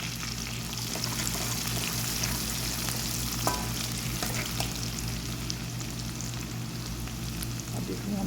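Garlic, curry leaves, mustard seeds and crushed cumin frying in hot oil, a steady close sizzle and crackle with faint stirring, continuous and loud with no voices.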